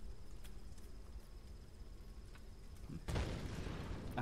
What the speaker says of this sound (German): es waren Explosionen. Keine Schüsse.